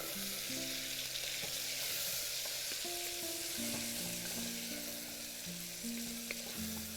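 Whole cashew nuts sizzle and fry in hot oil in a pan for a jackfruit-seed biryani while being stirred, with a steady close frying hiss and soft stirring scrapes and no talking.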